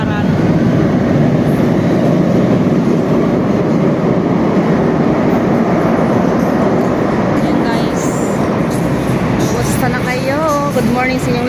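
Inside a moving LRT train in Manila heading toward Doroteo Jose station, a loud, constant rumble and roar of the carriage on the rails, with faint voices and a brief electronic chime near the end.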